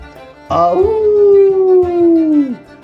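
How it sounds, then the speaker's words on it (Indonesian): Monster dungeon boss letting out a long, sustained howling roar, loud and close, holding one drawn-out tone before cutting off. "Auman mengintimidasi terdengar di sana."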